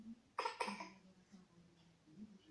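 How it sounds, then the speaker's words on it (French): A mother coughs twice in quick succession, close and short, followed by quiet breathing and faint background murmur in a calm indoor room. "maman elle tousse."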